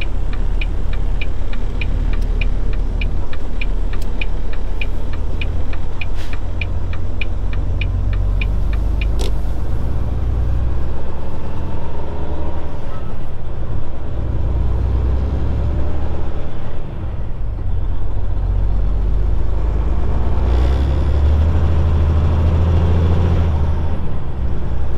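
A Peterbilt 379 truck engine is revved with the throttle, a loud, constant deep diesel rumble that swells and eases, with rapid ticking and a brief hiss early on.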